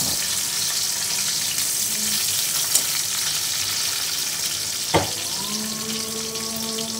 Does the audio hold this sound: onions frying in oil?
yes